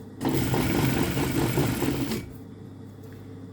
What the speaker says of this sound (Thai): ก็เย็บขึ้นมาอีกนะคะ